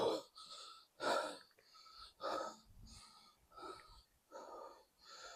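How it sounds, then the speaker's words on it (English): A person breathes heavily after climbing uphill, with about six loud, close, rhythmic gasping breaths separated by short pauses. "Oh, excuse my breathing."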